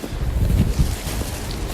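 Steady low, rumbling wind gusts buffet the microphone on a snowy mountain, swelling briefly and then settling into a constant roar.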